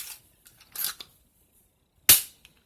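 A Dart Zone Renegade foam dart shotgun is handled and fired: a few light mechanical clicks and a rustle of pumping, then one sharp, loud pop with a short decay, heard close and alone.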